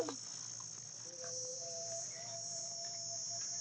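Grasshoppers in a bean field in rural Punjab keep up a steady, loud, high-pitched shrill drone throughout, with a few faint bird notes drifting in underneath.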